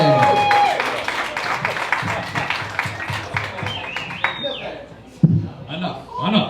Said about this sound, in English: So everybody, big round of applause for Dillon Kolar, everybody!